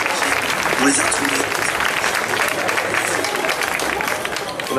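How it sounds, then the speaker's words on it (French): A crowd at a cosplay parade on the Sunday of Animasia 2014 applauds after a stage act, with thick, sustained clapping and a faint murmur of voices mixed in beneath. "On applaudit pour ce très beau striptease."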